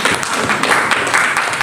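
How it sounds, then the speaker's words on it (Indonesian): A church congregation at a prayer and fasting gathering on Mount Salak, Bogor, claps in dense, steady applause. "Sekali lagi tepuk tangan yang meriah bagi Tuhan kita, saudara"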